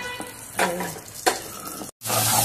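Potatoes fry in a pan with a bright, hissing sizzle broken by a few stirring bursts. The sound cuts off briefly near the end and then returns loudly.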